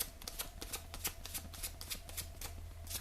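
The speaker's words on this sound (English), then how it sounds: "Clean up the tip of the bit of emery paper." Rapid, rhythmic scratchy strokes of emery paper sanding the tip of a 6.5 Creedmoor or .308 rifle bullet, quiet and close, repeating steadily with a low hum beneath.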